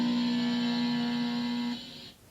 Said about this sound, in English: you get the sound of the heat ray building up to strength